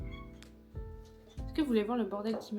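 Pet cat meowing indoors, a drawn-out wavering meow close by near the end, following and partly overlapping someone speaking in French.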